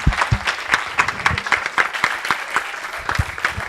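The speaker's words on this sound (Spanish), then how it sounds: "primero se merecen un aplauso por estos dibujos tan bonitos que nos han hecho." Students in a classroom applaud their drawings, with a dense, lively patter of close hand claps sustained throughout.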